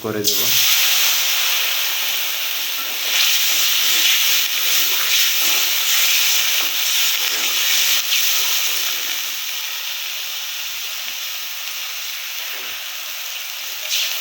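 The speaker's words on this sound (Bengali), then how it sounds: "পেঁয়াজ মরিচ ভাজা হওয়ার পরে এখন একটু পানি অ্যাড" Loud, continuous hissing sizzle as water hits hot oil with frying onions and chili in a pan, bursting at the start and then settling into a steady spitting steam.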